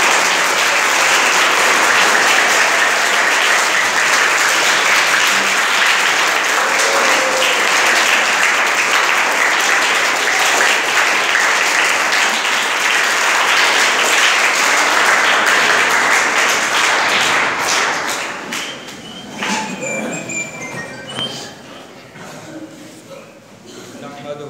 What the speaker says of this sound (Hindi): तमाम तलबा खड़े होकर और पुरजोर तालियों के साथ सर का इस्तकबाल करेंगे